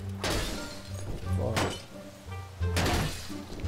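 A Ferrari being smashed in GTA 5 roleplay gives three loud crashing impacts with bright shattering glass, spaced about a second apart, with muffled voices in between.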